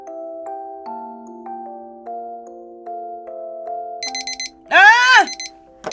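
A timer alarm beeps in quick, bright bursts against a soft sustained musical tone, followed by a loud swooping electronic sound near the end.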